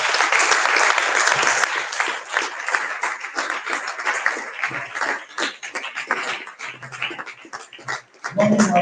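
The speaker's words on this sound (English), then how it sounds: "we want to, with one applause by all our students here, welcome Dr. Mrs. Veronica Ubwangu" Students applaud to welcome a guest, Dr. Mrs. Veronica Ubwangu, with sustained, dense clapping and crowd noise throughout, plus brief voices and a faint animal-like whimper near the end.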